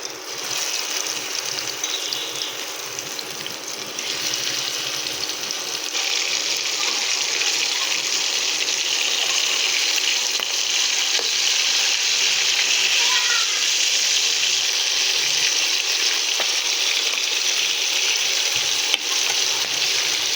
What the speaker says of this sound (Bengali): এটা কিন্তু খুব সুন্দরভাবে ভেজে নিচ্ছি